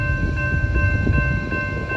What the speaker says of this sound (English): Same kind of horn, a K3LA.